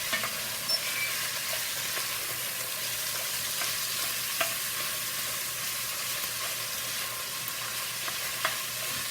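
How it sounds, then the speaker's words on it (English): Beef browns in a pot for old-school chili, a steady close sizzle and hiss with occasional small pops and light scrapes of stirring, unbroken throughout. "So what we're going to try to do now is get the meat all browned"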